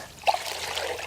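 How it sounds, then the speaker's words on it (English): Dandelions being rinsed in a basin of water, a brief splash followed by gentle trickling and dribbling close by. "Give your dandelions a nice thorough rinse."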